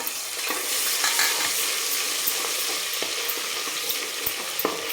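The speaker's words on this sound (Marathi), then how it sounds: "आणि छान जरा खमंग सुगंध सुटेपर्यंत आपण याला परतून घेणार आहे" Ginger-garlic paste sautés in about three spoons of hot oil in a pot, giving a steady, close hiss of frying with faint stirring clicks throughout and no talk.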